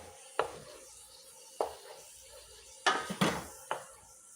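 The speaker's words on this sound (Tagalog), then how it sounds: "Lagay na natin ang ating giniling." Ground meat drops into a pan of three large onions already browned, giving several separate thuds and clatters spaced a second or so apart, close and fairly loud against a quiet kitchen.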